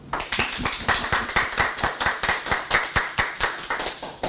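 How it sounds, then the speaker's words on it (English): Rhythmic, close clapping for students at a school awards ceremony, sharp even claps repeating about every quarter second and continuing alone without talk. "Let's give our scholars a round of applause."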